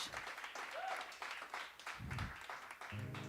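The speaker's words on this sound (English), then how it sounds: "Thank you for clapping." Small audience at a live music show clapping, moderate uneven applause in brief swells, with a voice speaking over it at times.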